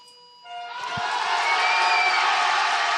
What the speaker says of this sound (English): the crowd here in the Tissot Velodrome in Grenchan has gone wild